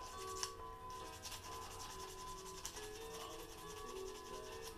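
Bamboo is sanded smooth in continuous soft rubbing strokes, faint and close, with a steady gritty hiss and no talking.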